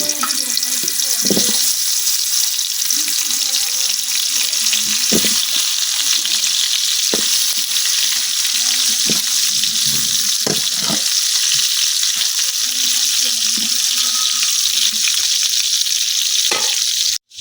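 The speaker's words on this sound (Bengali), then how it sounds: "এখন আমি কাটার আলুগুলো ভাজা নিতেছি" Cut potatoes fry in hot oil in a pan, a loud, dense and unbroken sizzle with scattered spatula scrapes and knocks throughout, close by, ending abruptly.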